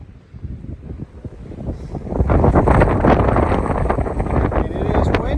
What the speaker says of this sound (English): it is windy up here. I feel like I'm gonna get blown away